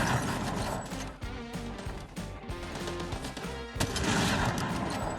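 Sniper rifle fire in a video game shooter, with a couple of sharp, heavy reports separated by mechanical bolt and reload clatter, set against steady game music and ambience.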